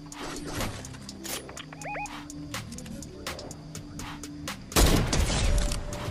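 Gunfire in the Fortnite video game, with scattered sharp shots and short bursts across the scene over a busy game soundtrack, ending in a louder rush of noise; a player's voice is faintly present.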